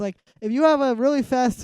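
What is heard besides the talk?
No distinct noise like a dog, phone or traffic.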